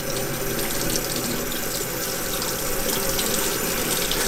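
Ice-cold water runs steadily from a tap in an RV during winter, a constant loud splashing gush with no pauses and no talking.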